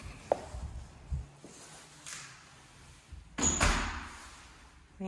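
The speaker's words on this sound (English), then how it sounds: "Straight ahead the door to enter in." Front door of a rental house opening, with a few knocks and thumps, then a louder scraping swing and thud, heard close in a quiet entry.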